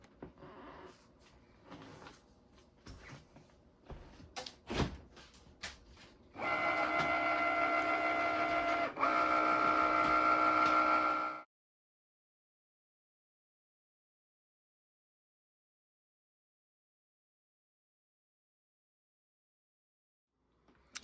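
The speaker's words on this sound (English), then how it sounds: "Once you click it, the Cricut will do the rest." A Cricut cutting machine works through a sticker sheet, its steady motorized whir and tonal hum running loud for about five seconds after some quieter clicks and handling, then stopping abruptly into silence.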